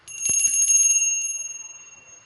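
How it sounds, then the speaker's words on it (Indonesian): A small bell rings with a bright metallic strike, its tone shimmering and slowly fading over a couple of seconds. "ditandai dengan lonceng berbunyi"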